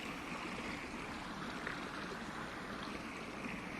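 Quiet, steady rush of the Rhine flowing as clear meltwater from Swiss Alpine ice in spring, a continuous even wash of moving water with no voices.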